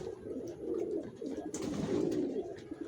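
Racing pigeons coo softly in a loft, their low, rolling calls overlapping in a close, continuous murmur with faint rustling behind them.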